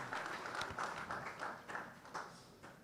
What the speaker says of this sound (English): say if you are clapping, clap